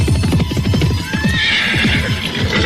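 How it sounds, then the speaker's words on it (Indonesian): Horse hoofbeats as two horses are ridden toward a clifftop beside a river, heard as a dense, fast, close galloping clatter with a whinny rising over it midway. "derap kaki kuda yang dinaiki Jaka Badak dan Dewi Astini menuju puncak tebing di pinggir Kali Dempen"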